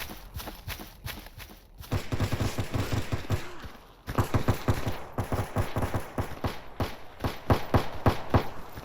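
Distant gunfire in foggy Chernobyl Zone surroundings of S.T.A.L.K.E.R. Anomaly, rapid bursts of automatic shots crackling in clusters with brief pauses, faint to moderate and far off, with no talk.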